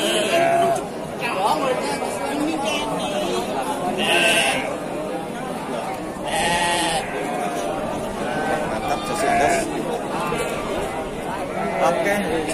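Sheep bleat repeatedly at a busy livestock market at Pasar Wage Bumiayu, the calls rising over steady crowd chatter and nearby voices discussing the animals.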